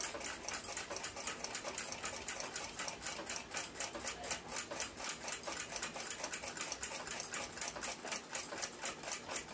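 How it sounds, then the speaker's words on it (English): Chamfer tool deburring and cutting an oil sink in a hole in a brass plate of an 1882 Ansonia clock movement, a fast, even run of small scraping ticks heard close up, faint and alone. "I'll use these chamfer tools to deburr the hole and create the oil sink."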